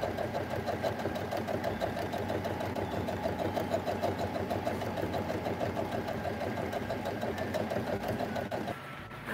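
A sewing machine running slowly in reverse while stitching a fabric gift bag, a steady close mechanical whir with a fast even needle rhythm that continues for several seconds before easing off at the end.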